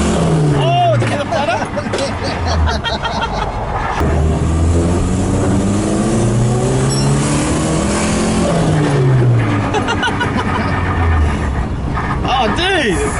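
A Toyota Hilux drift car with boost revs hard, its engine note rising and falling in continuous loud pulls, heard from inside the vehicle with some background chatter.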